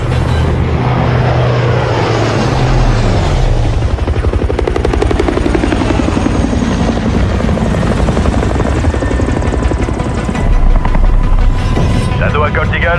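Military aircraft engines whine and roar loudly through taxi and takeoff, a continuous rotor-like buzz and throbbing drone that builds toward the end, with radio voices speaking over it.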